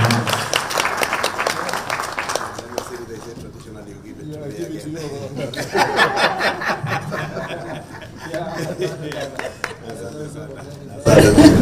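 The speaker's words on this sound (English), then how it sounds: "Let's give Waziri a round of applause" At a government policy launch, an audience gives a round of applause mixed with chatter and some chuckling, the clapping loose and uneven under ongoing talk, with a louder burst at the very end.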